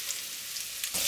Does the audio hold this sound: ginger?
yes